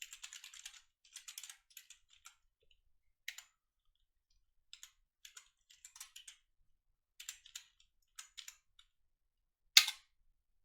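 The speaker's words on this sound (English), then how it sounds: "let me see if I can manually type it in" Someone types on a computer keyboard in quick bursts of light, close clicks separated by short pauses, ending with one louder key strike.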